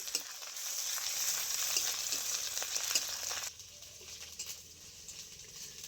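Onion with garlic and ginger paste fries in hot oil with a bright, steady sizzle and a few stirring scrapes, then the sizzle suddenly drops to a much quieter crackle partway through.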